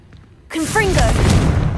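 A booming fire-blast from the Confringo spell in the Hogwarts Legacy video game bursts in loudly after a brief quiet, followed by a sustained roar of crackling and rumbling.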